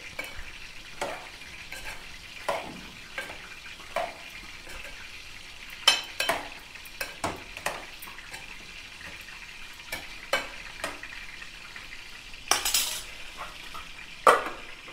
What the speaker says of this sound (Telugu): ఇప్పుడు చూడండి మంచిగా ఫ్రై అయినవి లెగ్ పీసులు